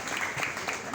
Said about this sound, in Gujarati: બધાને આપણે તાળીઓથી વધાવી લઈએ.